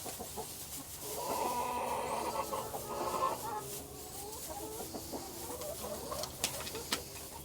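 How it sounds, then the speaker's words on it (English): Several chickens, including a young black and white half-laced Cochin, cluck and chatter close by as straw bricks are spread out, with repeated short calls rising and falling over rustling. "We've decided that this young black and white chicken, which I think Katie said was half-laced cochin."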